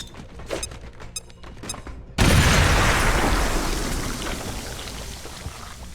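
A grenade detonates in the video game XCOM: Chimera Squad, a sudden loud boom after a few quiet interface clicks and tones, followed by a long, rumbling, debris-like roar that slowly fades.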